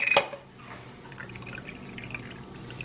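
Water is poured into coffee concentrate in a kitchen, starting with a brief clink and then a steady, soft trickle of liquid running for a few seconds at close range.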